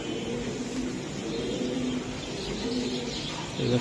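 Racing pigeons at a club loft cooing softly with low, repeated murmuring calls over steady background hiss, a few brighter chirps mixed in, no talk.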